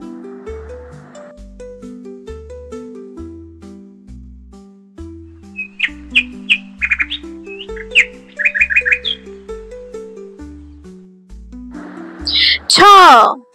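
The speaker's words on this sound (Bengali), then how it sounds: "চড়ুই পাখি গাছের ডালে" Sparrow chirping in a tree branch, short bright chirps over a simple tonal melody, ending in a loud, shrill squawking call close up.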